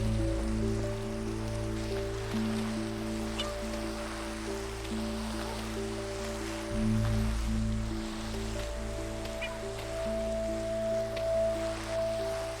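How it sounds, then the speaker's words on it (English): Steady rain falling in the Minecraft video game, a soft continuous patter over a low droning background with faint tonal hums, no voices. "It's raining again"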